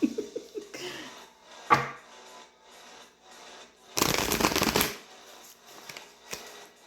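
Tarot cards being shuffled in a quick riffle burst lasting about a second, with a few softer card taps and handling noises around it in a quiet room.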